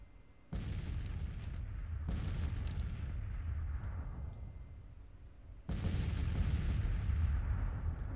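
Three-inch howitzers fire in Grand Tactician: The Civil War, a Civil War strategy game set at Vicksburg: two deep booming artillery blasts start at once, each rolling into a long, loud rumble, with a fresh heavy volley near the end.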